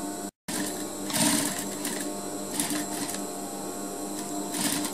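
A sewing machine stitches a trouser zipper fly in a tailoring class. It gives a steady, fast mechanical whirr with a brief stop near the start and small surges as the stitching continues. No one speaks.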